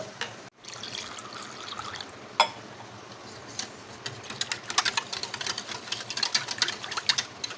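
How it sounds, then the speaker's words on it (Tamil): Water poured into a cooking dish while making a homemade lunch, heard as a quiet close trickle and patter that grows busier toward the end, with no talking. "இப்போ இதில் கொஞ்சம் தண்ணி விட்டுக்கலாம்"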